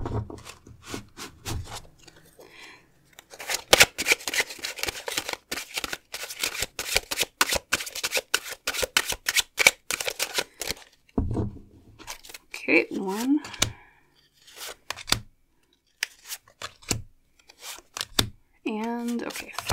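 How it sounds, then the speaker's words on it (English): Tarot and oracle cards shuffled by hand in dense bursts of rapid riffling and flicking, close and fairly loud, broken by pauses where a voice speaks. "We'll shuffle your cards again."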